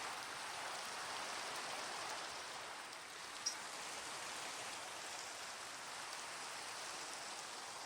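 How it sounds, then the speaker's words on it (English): Light rain falls steadily, a soft even hiss of drops heard fairly quietly with no voices over it. "It's just started raining here for us."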